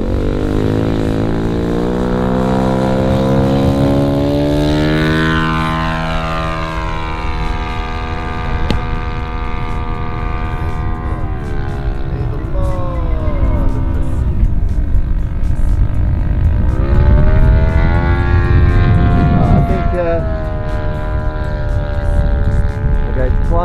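Hangar 9 P-47 60 ARF model warbird with a Laser 100 four-stroke engine in flight, its loud buzzing drone rising and falling in pitch as it passes and circles overhead, heard alone without talk.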